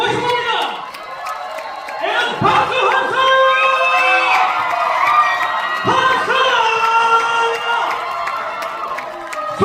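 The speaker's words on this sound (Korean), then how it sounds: "여러분 뜨거운 박수와 함성으로 맞이해 주시면 감사하겠습니다." A cinema crowd at Megabox COEX greets the stage appearance for the film Soju War with Yoo Hae-jin and Lee Je-hoon, with loud cheering, high whoops and shouts over scattered clapping that rises and falls in waves.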